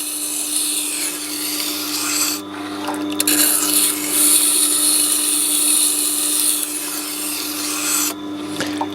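A knife scrapes against the turning stone of a Tormek T8 sharpener in a continuous grinding hiss over the machine's steady motor hum, with brief pauses where the blade lifts.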